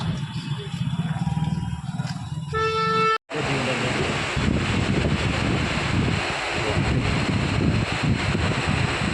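Wind buffets an outdoor microphone as steady, loud broadband rumble that covers the whole clip, with a brief dropout near the middle. Faint tonal traffic sounds sit underneath at the start.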